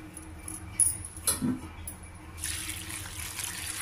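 Water poured into a pan of chopped cabbage while cooking curry, a soft splashing hiss that swells in the second half after a few light clinks and knocks, fairly close and without talk.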